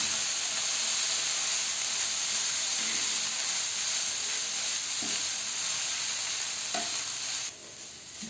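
Chicken thoran sizzles loudly in a pan after water is sprinkled in, a continuous hissing fry with occasional stirring scrapes, easing slightly near the end, no talk.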